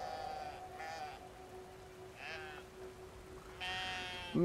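Sheep in the video game Brothers: A Tale of Two Sons bleat in several separate calls over a steady game hum, with a sharper bleat near the end.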